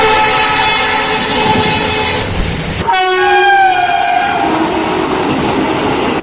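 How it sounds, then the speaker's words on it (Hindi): A passenger train overtaking the Janshatabdi Express rushes by loud and close, with a steady rumble, a sudden whoosh as the carriages pass, and drawn-out horn tones fading afterward. "पैसेंजर ट्रेन ने मारा जनशताब्दी एक्सप्रेस ट्रेन को ओवरटेक।"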